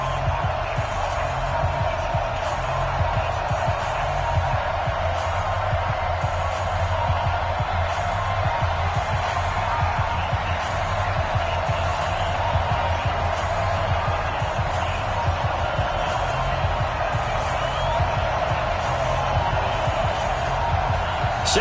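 Stadium crowd in an EA Sports NFL video game before a Raiders versus Chiefs matchup, a steady roar of cheering that fills the whole stretch at an even loudness without breaks.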